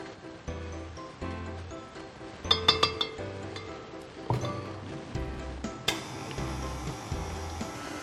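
A spatula scraping and tapping against the sides of a bowl of creamy fruit cake batter, with scattered light clinks and knocks at a moderate distance.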